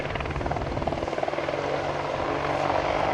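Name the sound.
Apache helicopter at Biggin Hill air show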